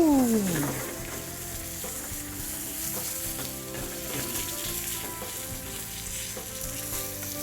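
Chicken pieces frying in a pan for chicken marsala give a steady, loud sizzle throughout, with a rising whine at the start and soft stirring and scraping underneath.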